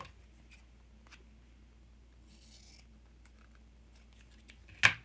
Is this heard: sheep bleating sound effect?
no